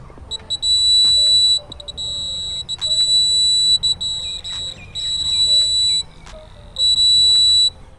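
Smart glasses for the blind sound a loud, piercing electronic alarm near a wall, in steady long beeps broken by short gaps.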